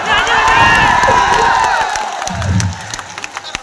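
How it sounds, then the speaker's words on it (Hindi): A crowd at a motivational meet-up gathering in Mahoba claps and cheers loudly for over two seconds, with shouting voices mixed in, before the noise fades into scattered claps and chatter. "तालियों की गड़गड़ाहट थोड़ी कम है"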